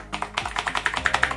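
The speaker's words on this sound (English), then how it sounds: "this is a mechanical keyboard" Rapid clicky keystrokes on a one-handed mechanical keyboard rattle off in an uneven quick rhythm, close and clear with no talking.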